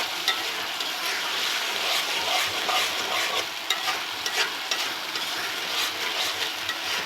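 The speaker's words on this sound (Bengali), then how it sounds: "আমি ভালোভাবে মশলাটা কষিয়ে দিচ্ছি" Spice paste for a chicken roast fries in a pan while being stirred, a continuous crackling sizzle broken by frequent scraping strokes of the spoon, close and fairly quiet, with no talking.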